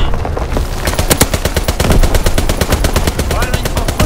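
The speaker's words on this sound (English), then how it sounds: "Flak guns firing." Flak guns fire in a World War II battle in the video game Call of Duty: WWII, a loud, rapid run of booming shots in a steady rhythm that keeps going the whole time.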